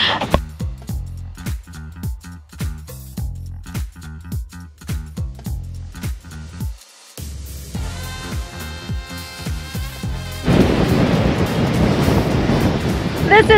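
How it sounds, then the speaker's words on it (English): Strong wind gusts in a Greek harbor at Leros roar and buffet the microphone continuously, with rhythmic pulsing thumps at first, then a steadier rush that swells louder toward the end; no talking. "every afternoon we see north of 20 gusts in the harbor"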